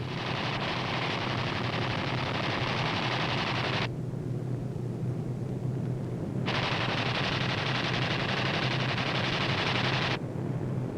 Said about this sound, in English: These B-25s are carrying out low-level strafing operations against Jap surface vessels on a Jap-held airfield.